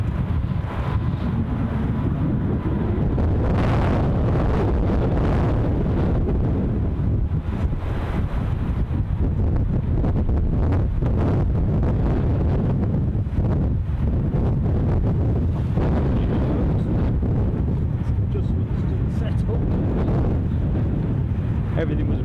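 Strong, gusty wind buffets an open microphone at Edinburgh Airport, a loud continuous roar with surging gusts throughout, with no clear speech over it.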